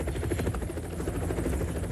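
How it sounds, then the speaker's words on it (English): A helicopter runs steadily in rural County Kerry, Ireland, its rotor chop throbbing as a loud, continuous pulse close by, with no voices over it. "do you think, get into the helicopter?"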